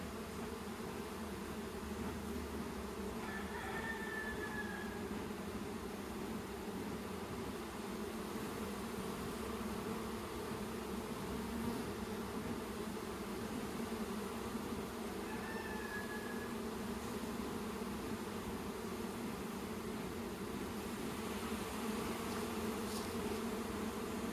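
Honey bees buzz around an open hive during an inspection, a dense, steady drone that fills the whole stretch, with a couple of faint brief chirps above it.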